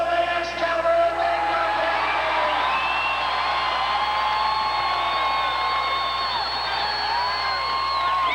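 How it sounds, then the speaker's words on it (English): Monster truck show crowd in an arena cheering, whooping and yelling continuously, a dense roar of many voices with shrill individual whoops rising above it, loud and sustained throughout. "while the crowd is roaring its approval"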